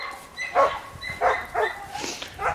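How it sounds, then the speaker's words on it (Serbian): Several dogs bark at each other indoors in short yapping bursts with a few whimpering yips, spaced about every half second, moderately close. "oni laju jedno na drugo"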